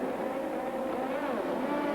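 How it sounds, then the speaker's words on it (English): Formula One race cars at the start of the 1986 Portuguese Grand Prix: a dense, continuous wall of high-revving engine roar at steady loudness, several cars blending together with no voice heard. "Mansell really laying down the rubber, and Mansell is in the lead."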